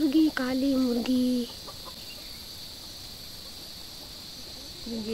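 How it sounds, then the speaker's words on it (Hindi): White, red and black hens cluck close by in a Himachal village, with a short burst of clucking at the start, a quiet stretch, then a brief cluck again at the end. "देखो सफेद मुर्गी, लाल मुर्गी, काली मुर्गी"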